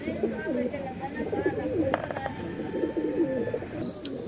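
Several pigeons coo in low, throaty burbles close by, a continuous soft murmur with a few brief clicks over it.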